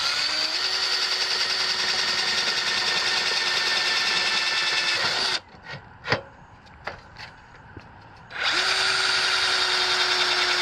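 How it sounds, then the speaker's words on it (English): A power drill whines steadily as it bores through a solar blanket reel tube, stops for a few seconds of faint knocks and handling, then starts up again. "you will have to drill a hole through the tube as follows."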